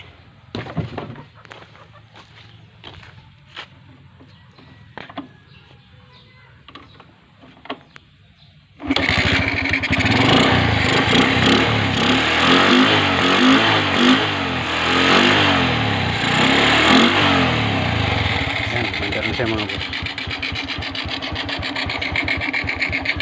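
A Bajaj motorcycle with burnt wiring from a wrongly fitted Bosch relay suddenly roars to life after several seconds of faint clicking and ticks, then runs loud and steady with rough revving until the end.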